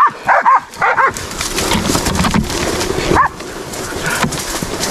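Cattle dog working cattle outdoors: a few sharp high whimpers and yips up close at the start, then a burst of rough barking and scuffling noise with another whine partway through.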